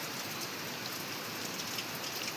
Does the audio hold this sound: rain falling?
yes